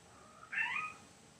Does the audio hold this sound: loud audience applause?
no